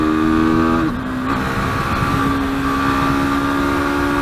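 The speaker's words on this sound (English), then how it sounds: "Let me open more throttle." KTM RC 390 motorcycle engine revving as the throttle opens, a loud steady engine drone whose pitch dips then rises and holds, close and dominant, with a rider aboard.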